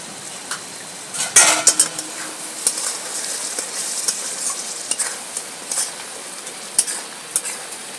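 Homemade garam masala being stirred into a crab curry in a pot, with close scraping and clinking of a spoon against metal over a steady sizzle, sharper knocks coming in irregular bursts.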